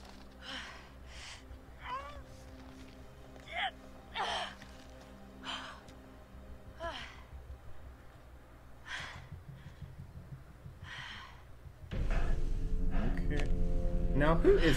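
Heavy, ragged breathing from the Until Dawn video game comes as a series of sharp gasps and panting breaths over a low ambient hum, ending with louder background noise.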